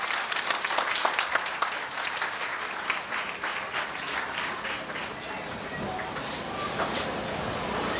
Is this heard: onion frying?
no